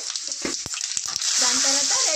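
Mustard seeds and spices tempering in hot oil in a kadai for chutney give a bright, steady sizzle that swells louder midway, with a few brief clatters early on.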